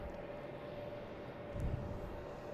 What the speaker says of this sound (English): So we got a JetBlue taking off to Phoenix.